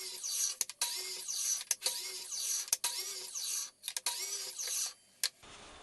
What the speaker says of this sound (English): that'll help me cut this board into the strips that I need to glue together to make this box.